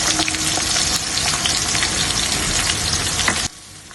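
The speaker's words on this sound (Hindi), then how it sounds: "एक साइड पे हो रहे मेरे प्याज फ्राई" About a kilo of onions frying in oil for biryani, a loud, dense sizzle that holds steady and then drops away sharply near the end, no talking.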